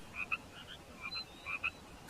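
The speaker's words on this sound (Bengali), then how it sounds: "ব্যাঙের ডাক ভেসে আসছে বাইরে থেকে।" Frogs croak outside at night after a rainstorm in a cartoon scene, with several short paired calls spaced out over faint background hiss, distant and soft.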